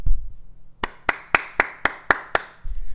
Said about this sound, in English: just let's give a round of applause to Oklahoma State football.